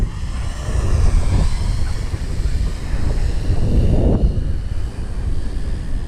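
Outdoor wind buffets the microphone in a steady, rumbling low roar that swells and eases in gusts throughout, with no other clear sound over it.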